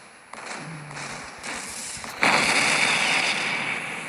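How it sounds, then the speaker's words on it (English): Battleship guns firing in the World War Battleship game, with an O class battlecruiser: a sharp report, then a second blast and a louder salvo that swells into a sustained roar, close and dense. "I don't know why it's just that one single gun firing, and then the rest are like, oh yeah, we'll join in"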